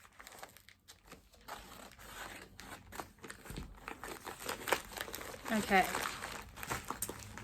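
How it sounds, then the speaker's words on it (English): A crinkly parcel package is carefully cut open, with scattered rustling and crinkling plastic, small snips and handling noises, quiet and close, while a person speaks briefly. "Let's just try and cut it open carefully."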